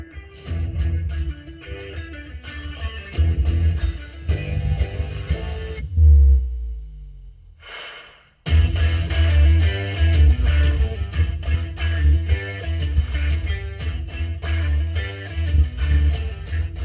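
Music plays loud and full through Kicker plug-and-play speakers installed in a 2007–2014 Jeep JK Wrangler, with a deep steady bass pulse and a brief drop near the middle before the track returns in full.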